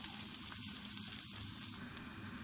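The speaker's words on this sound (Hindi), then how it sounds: "यहाँ पे प्याज हमारे फ्राई हो चुके हैं।" Onions fry in a pan for a desi chicken curry, giving a faint, continuous sizzle with light crackling, steady and even throughout with no talk.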